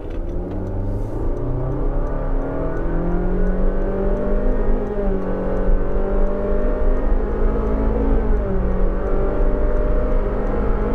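A Honda BR-V accelerating hard from a standstill to 100 km/h, its engine note climbing steadily and loudly through the gears over a constant road and wind roar inside the cabin.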